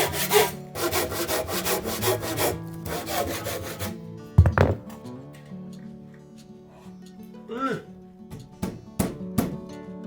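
A handsaw cuts through wood during a home renovation of an old house with earthen walls, giving rapid rhythmic rasping strokes at close range, then a clunk, scattered knocks and taps, and someone talking between the bursts.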